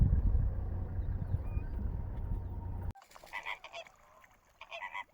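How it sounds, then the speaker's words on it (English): Gray crowned cranes give honking, goose-like calls across an Amboseli wetland, a few separated calls after a loud rumbling stretch of wind or engine noise, with no talk. "Or maybe it's a pair that has 2 gray crowned cranes"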